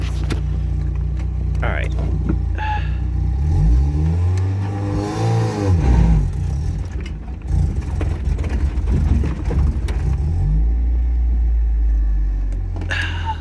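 A Mazda Miata with an engine fault idles, then revs and accelerates up a hill, its low engine drone rising and falling in pitch, loud and close, with someone talking briefly over it.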